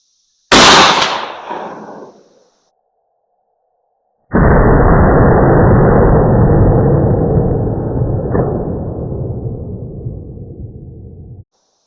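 A shotgun fires a slug loaded with an LBC-50 wad: one sharp, loud blast at the start that decays over about two seconds. After a short pause a long, steady broadband roar follows, likely wind or handling noise.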